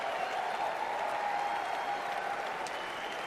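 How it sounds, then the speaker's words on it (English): Large E3 audience applauding and cheering at a live press event, dense sustained clapping with crowd roar throughout, steady and loud with no clear speech. "Listen to that crowd."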